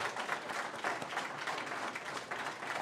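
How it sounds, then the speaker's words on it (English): Faint, dense applause from the audience at a special commission meeting after a vote, steady clapping from many hands throughout. "I think that deserves a round of applause"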